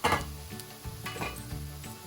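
Coriander powder is added to a sizzling beef masala for beef chaps, with close pan sizzle and a few spoon scrapes and clinks against the pot, no voices.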